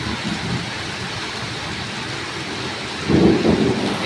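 Heavy, unseasonal winter rain pours down in a steady wash, and a deep roll of thunder swells in near the end.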